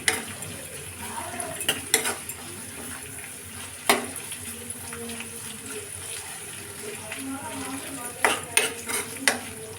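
Onion pieces frying in a pan for onion fried rice, with a low steady sizzle. A spatula scrapes and clinks against the pan now and then, close by, and there is no talking.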